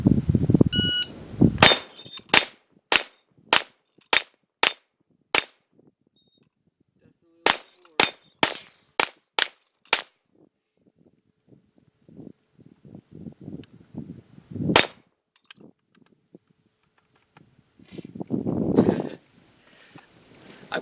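An FN PS90 5.7x28mm rifle fires at a steel dueling tree, each shot answered by a sharp ringing clang from the plates. Two rapid strings of five or six hits are followed by a single shot, with faint talk and handling noise between them.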